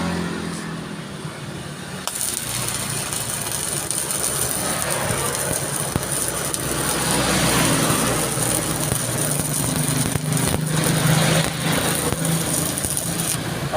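A Yamato 300 amp welding machine welds with a steady, dense crackling hiss that starts abruptly and runs on continuously and loudly up close.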